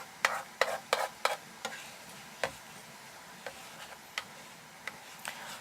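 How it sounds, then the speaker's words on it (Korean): A wooden spoon stirs a thick sauce in a pot, scraping in a steady run of sharp close knocks and scrapes, loud at first and then sparser and quieter. "뭉치는 게 없게 잘 섞어주셔야 됩니다"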